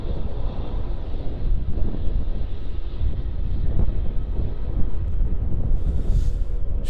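Jetstar airliner taking off at Melbourne Airport, a loud sustained engine roar with wind buffeting the microphone, fairly close and steady throughout.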